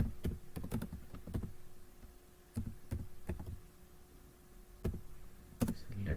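Keys clatter on a computer keyboard as a file name is typed in Excel, irregular bursts of quick clicks separated by short pauses, close and fairly quiet over a faint steady hum.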